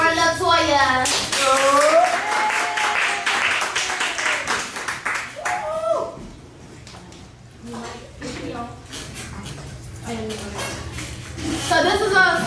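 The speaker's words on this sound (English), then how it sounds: "I need everybody to give a round of applause for Latoya." An audience at a talk show claps for a guest, a steady patter of applause running underneath a speaking voice throughout.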